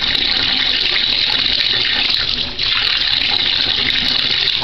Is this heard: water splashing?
yes